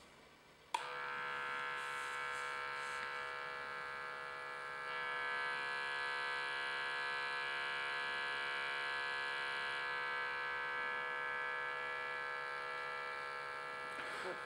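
A GA5000 portable landfill gas analyser's pump hums steadily for about fourteen seconds while purging, starting abruptly and holding a constant electric buzz at close range with no talking.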